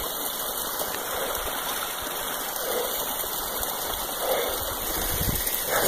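A waterfall gives a steady, soft rushing roar of water that runs continuously without a break and stays fairly quiet.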